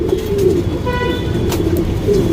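A pigeon in a breeding loft coos in a low, steady murmur throughout, with a faint higher tone overhead and no talking.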